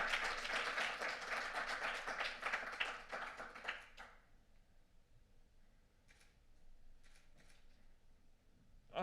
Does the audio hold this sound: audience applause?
yes